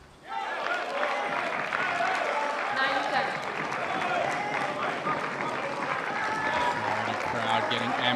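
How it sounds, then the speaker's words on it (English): Cheering and clapping from the crowd at a Major League Table Tennis match between Florida and Carolina, rising within the first half second and then holding loud and dense, with voices mixed into the noise. "Crowd getting amped up here."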